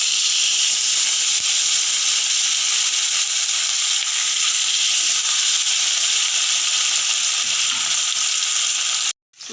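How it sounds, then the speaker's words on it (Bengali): Pieces of katla fish frying in hot oil in a kadai, a steady loud hiss and sizzle running unbroken throughout, cutting off abruptly near the end. "এবার আমি মাছগুলো দিয়ে দেব।"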